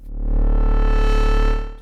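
A buzzy, rich synthesizer drone of two sawtooth waves sounding together a fifth apart, one an octave higher, swelling in and holding steady before tapering off.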